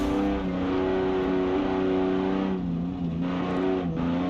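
A car engine revs hard in the BeamNG driving game, picked up by an exterior microphone on the left side of the front bumper during a Pikes Peak climb; a loud, steady drone holds pitch, then briefly dips and rises again.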